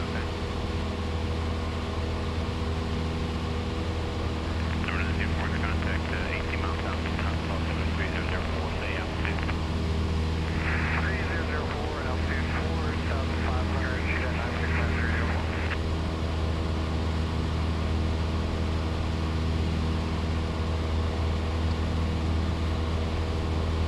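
Light aircraft engine droning steadily in flight during a cross-country trip, a constant loud hum with cabin noise throughout and a brief burst of higher chatter or static in the middle.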